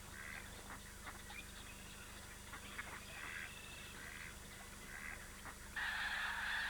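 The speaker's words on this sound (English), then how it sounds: "The skeins of incoming snow geese contain both white and blue-coloured birds" Lesser snow geese, white and blue birds together, call at Sand Lake in spring with repeated honking cries at moderate distance, faint and steady over a constant background hum, growing louder and denser near the end.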